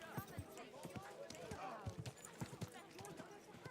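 Horse hooves clip-clopping in Kingdom Come: Deliverance 2, a steady run of quick sharp hoof strikes heard close under a voice as he talks over them.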